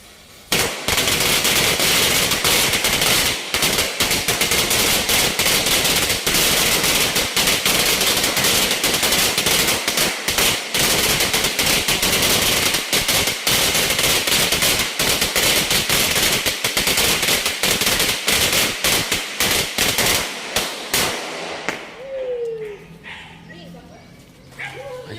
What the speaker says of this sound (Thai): จุดประทัดแล้วครับผม